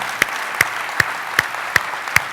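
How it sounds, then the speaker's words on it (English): Applause for Steve during opening remarks: six sharp, evenly spaced claps in a slow, steady rhythm over a quiet room murmur. "Let's give Steve a round of applause."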